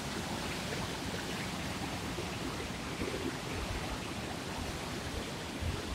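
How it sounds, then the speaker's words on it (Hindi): Fast-flowing river water along the Kedarnath trek, a continuous broadband rushing roar, steady and moderately loud with no voices. "आपको पानी की आवाज़ सुन के ही पता लग रहा होगा कितना बहाव वाला है इसमें पानी का।"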